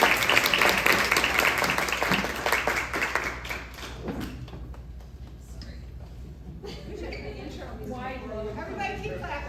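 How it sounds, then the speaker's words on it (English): An audience claps for a storyteller walking on stage, loud scattered applause at first that thins and fades over several seconds as a voice starts speaking over it. "Everybody keep clapping."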